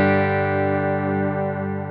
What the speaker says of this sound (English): Bit of delay and reverb there.